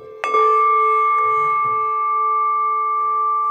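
A bell is struck once near a pine cone, giving a sharp clear strike followed by a long, steady, ringing sustain that fades only slightly over several seconds, with no talking.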